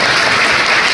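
A church congregation claps together during a Hindi sermon, a dense, steady wash of applause filling the whole moment with no voices over it.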